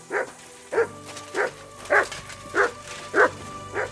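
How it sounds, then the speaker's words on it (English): A dog in the medieval video game Kingdom Come: Deliverance 2 barks steadily, seven short, evenly spaced woofs close by over a quiet background hum. "Good dog, Matt."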